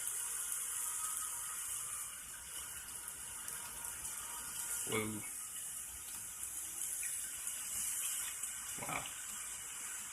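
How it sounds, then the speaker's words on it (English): Continuous rushing waterfall water from a video game demo played on a 2009 HP Pavilion dv7 2185dx laptop, a steady hiss throughout with a person briefly exclaiming twice over it. "It's like I'm going down a waterfall."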